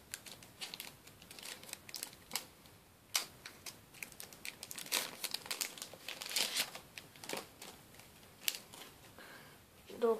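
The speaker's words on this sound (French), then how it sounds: "là, ouverture du troisième booster" Crinkling foil wrapper of an Adrenalyn XL Ligue 1 card booster pack being torn open, with close, busy crackles and sharp rustles in bursts over about ten seconds.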